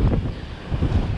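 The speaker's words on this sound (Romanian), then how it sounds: "valuri mari, vânt mare" Strong wind buffets the microphone over big Mediterranean waves at sea, a loud, continuous roar that swells and rushes in uneven surges, with no voices.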